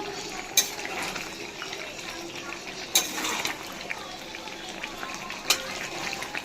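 Meat sizzles and bubbles as it is sautéed in a pot, a steady close hiss with a few sharp clinks of a utensil against the pot, while a person talks over it.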